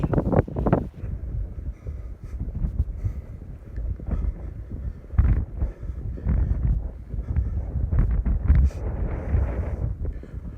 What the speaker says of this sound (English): it's windy. It's making it cold.